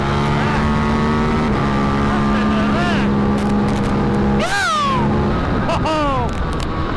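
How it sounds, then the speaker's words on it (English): KTM RC8c motorcycle engine on the move, a loud, steady, close roar with rising and falling revs as gears change, and a rider's voice over it. "Oh, what a pleasant bike to ride."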